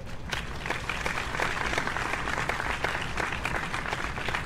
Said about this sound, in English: A round of applause for our fellow graduates.